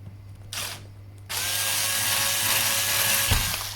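A handheld power drill whirs steadily for a couple of seconds after a brief short burst, spinning loud and close with no talking.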